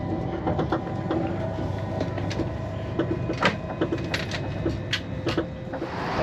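A passenger train runs from Copenhagen to Malmö over the Øresund Bridge, heard from inside a carriage as a steady rumble of wheels on track with scattered clicks and rattles.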